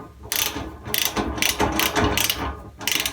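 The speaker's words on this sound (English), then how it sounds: "I'm going to use a 10 millimeter socket to tighten everything up." A ratchet with a 10 mm socket tightens bolts on a rolling tool cart, giving loud bursts of rapid clicking in about six separate pulls with brief pauses between them, close up and without talk.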